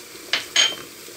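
A utensil clinks twice against a pan, close and crisp, while softened onions with chili powder and basil are sautéd, with only a faint background hush between the knocks.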